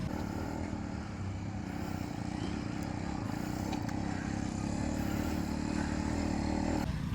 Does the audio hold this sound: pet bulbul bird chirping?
no